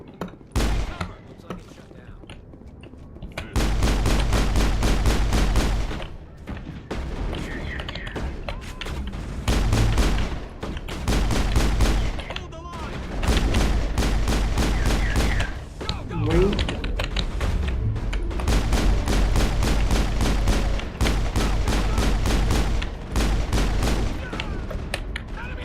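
Rapid bursts of gunfire from the Mass Effect video game during combat on Eden Prime, loud and dense, coming in repeated volleys with short gaps between them.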